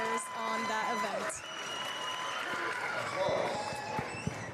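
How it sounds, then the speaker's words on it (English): Applause and crowd noise fill a gymnastics-style acrobatics and tumbling meet between St. Leo and Baylor, a steady clapping wash under an announcer's voice reading scores. "Applause."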